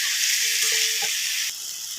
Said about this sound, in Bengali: তো খুব ভালো করে ভেজে নিয়ে আমি জলটা দিয়ে দেবো, নেড়ে চেড়ে ভালো করে ভেজে নেব।